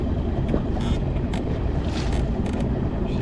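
A fishing boat idles on the water with a low, steady engine rumble, close and continuous, mixed with some wind buffeting and no speech.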